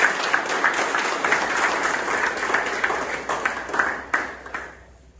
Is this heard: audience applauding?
yes